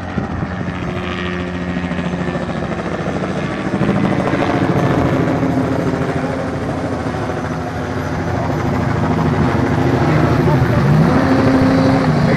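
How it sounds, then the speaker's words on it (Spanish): Helicopter circling and passing overhead beside the desert course of the 2024 Score Baja 400 off-road race near El Mezcal, a steady broadband rotor and engine roar that rises and swells mid-clip, with people talking nearby. "Ahí viene otro helicóptero aparte."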